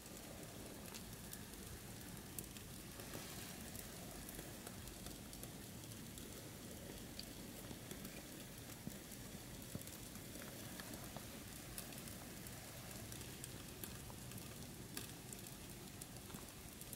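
Rice cooking in a YAZAWA travel multi-cooker gives off faint, continuous crackling and sizzling, a soft steady hiss dotted with tiny pops, heard alone and quiet.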